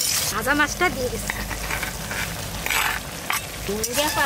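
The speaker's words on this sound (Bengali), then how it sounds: "ভাজা মাছটা দিয়ে দিচ্ছি।" Fried pond rohu or catla fish going into a sizzling bottle gourd curry in a wok: a steady, close frying hiss with stirring scrapes, while people talk over it.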